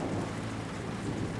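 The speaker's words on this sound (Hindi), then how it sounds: "बारिश हो रही है।" Steady rain falling at night, a dense continuous hiss with low rumbling beneath, moderately loud and without voices.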